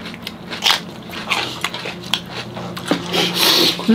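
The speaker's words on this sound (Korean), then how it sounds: "아삭 아삭 아삭 소리가 있잖아." Raw chili peppers are chewed with loud, close crunching bites that crackle repeatedly in an uneven rhythm.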